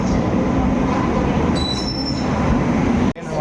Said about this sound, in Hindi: ट्रेन हमारी आ गई है